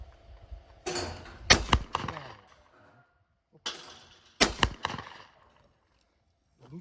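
Shots fired at a shooting range near Yerevan, Armenia: two separate clusters of sharp cracks, each a quick burst of several reports with short echoing tails and quiet gaps between.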